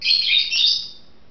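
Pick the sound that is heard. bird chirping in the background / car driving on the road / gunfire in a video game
bird chirping in the background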